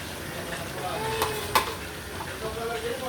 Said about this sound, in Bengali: মাংসের সাথে মশলা কষানো হয়ে যাওয়ার পরে আলুগুলো দিয়ে দিচ্ছে